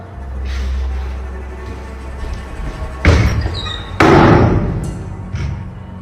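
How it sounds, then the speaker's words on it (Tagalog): Two loud, heavy thuds strike from below a house, the first about halfway through and the second a second later, each trailing into a low rumbling resonance over a quiet, eerie background. "bigla siyang may narinig na malakas na kalabog galing sa ibaba ng bahay"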